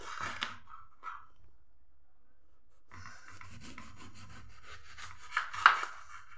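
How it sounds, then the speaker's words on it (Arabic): Eggplant being cut with a knife, a few scraping slices early followed by a longer rasping stretch of cutting, fairly close and moderate in volume, no talk. "هنا نجيبو الباذنجان تاعنا نقصوها."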